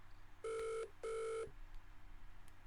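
A telephone rings twice in a Who Wants to Be a Millionaire game for the phone-a-friend lifeline, two even electronic bursts with a short gap, then quiet.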